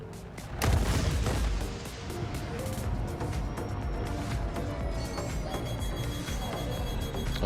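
Two size 5 torpedoes slam into a raft-design ship in a video game, a heavy close boom early on followed by a sustained rumbling roar scattered with sharp crackling impacts.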